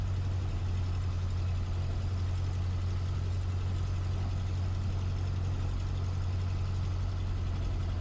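Cessna 152 light aircraft engine while taxiing back to the stand after landing, a steady low droning hum heard from inside the cabin, continuous and unchanging throughout.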